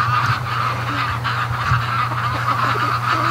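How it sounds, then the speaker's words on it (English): A flock of ducks coming home at 7:05 in the evening from a swamp, honking steadily and continuously at moderate distance over a low background hum. "It's 5 after 7. And you can hear the ducks coming."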